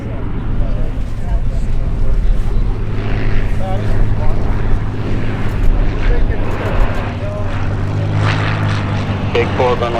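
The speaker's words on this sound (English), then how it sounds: "Cessna that's right over the runway now. They just touched down." A Cessna touches down on runway 36 left at Oshkosh during AirVenture, propeller and engine drone steady and fairly close throughout, with radio chatter and voices over it.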